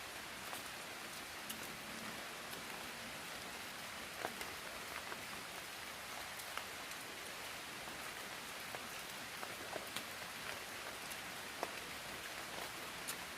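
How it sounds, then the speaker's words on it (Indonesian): Heavy rain pours steadily on a forest during a cooking meal, a dense continuous patter with scattered close drops striking surfaces, no talking. "Hujan-hujan ya."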